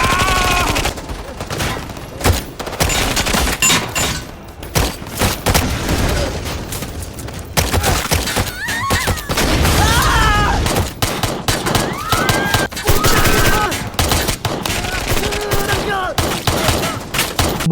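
Gunfire rings out in an action film shootout at a warehouse, with loud bursts of shots and booming impacts. Shouting voices come through between the volleys.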